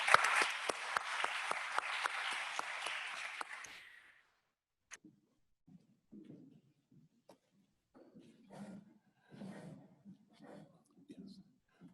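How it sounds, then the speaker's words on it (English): Applause from attendees at a county board of commissioners meeting, dense and steady for about four seconds before cutting off, followed by scattered speech in the room. "Let's give Ms. Candy McCullough another round of applause"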